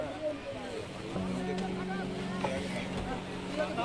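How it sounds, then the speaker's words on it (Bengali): A boat cruises on the Ganges at Prinsep Ghat in the evening, its engine a low steady drone with a faint tonal hum, running under people chatting nearby on board. "আমাদের এবার বোটে যাত্রা শুরু হচ্ছে আজকে গঙ্গার ওপর সন্ধেবেলা।"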